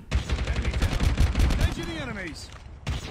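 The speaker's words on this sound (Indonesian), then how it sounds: "ditembak pakai roket petasan" Rapid bursts of firecracker rocket launcher fire in Call of Duty Mobile crackle in quick succession, followed by a whooshing rocket-like streak, loud and continuous.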